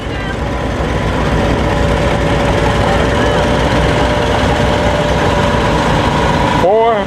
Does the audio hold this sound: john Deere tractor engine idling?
yes